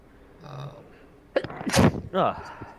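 A single loud sneeze bursts out near the mic at a tabletop fantasy role-playing session, preceded by a faint breathy intake and followed by a short voiced sound.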